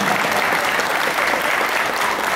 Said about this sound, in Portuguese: me dá uma salva de palmas pro Tiquinho.